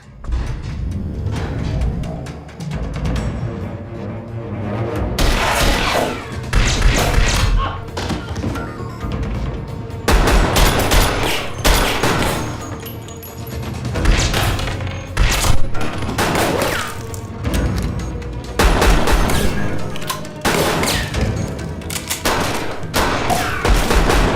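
Gunfire in a French-dubbed action film scene: repeated bursts of shots and heavy thuds in irregular volleys over about 24 seconds, loud and dense, with brief gaps between the barrages.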